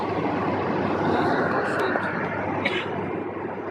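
Inside a Sukhoi Superjet airliner cabin in flight to Vladivostok, a steady broadband roar of engines and rushing air fills the space, with a faint voice briefly audible over the hum.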